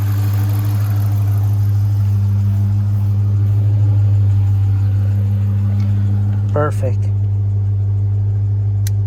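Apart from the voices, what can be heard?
car engine idling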